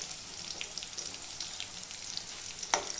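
Garlic and peanuts frying in hot oil in a pan give a steady close crackling sizzle with small pops and a sharp stirring clank near the end, moderately loud, no talk.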